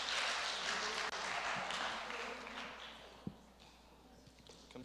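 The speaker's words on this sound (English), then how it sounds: "Everybody give a round of applause for the 4 guys coming on stage." A student crowd at a church youth gathering applauds as four guys come on stage, a fairly distant, soft wash of clapping that gradually fades, with a single sharp knock near the end.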